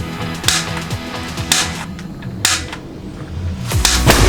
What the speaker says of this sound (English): What do you think of the potato cannon?